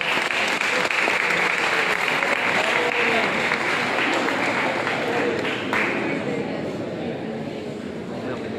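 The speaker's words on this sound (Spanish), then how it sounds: "Un fuerte aplauso, por favor." A crowd at a culture-week event in Moniquirá gives a strong, sustained round of applause, dense and loud with a steady wash of clapping that eases slightly toward the end.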